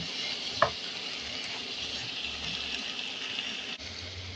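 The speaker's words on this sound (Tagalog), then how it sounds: "Gisa-gisahin hanggang mag-brown ang chicken." Chicken sautéing in a pan for a Filipino tom yum: a steady, moderate sizzle and crackle with one sharp knock early on, likely a utensil against the pan.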